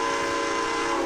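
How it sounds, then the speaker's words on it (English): A passing train gives a steady, loud, sustained horn or whistle blast with a dense rumble beneath it, unbroken across the whole moment, with no talking. "I've got a train right now."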